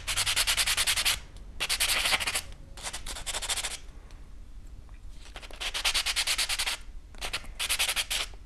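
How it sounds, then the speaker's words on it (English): Sandpaper-like reliefing block, dark gray side, rubbed over a patinated necklace in rhythmic scratchy strokes, forming five close, steady bursts of sanding with brief pauses between, with no talking. "I'm also going to go in with a reliefing block with a dark gray side."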